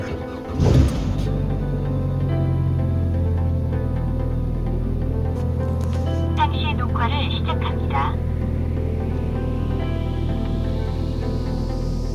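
A car on the road during a speed test of an AliExpress dashboard speed display, heard from inside as a steady low engine and road rumble throughout, with a brief bump near the start and some faint higher rattles midway.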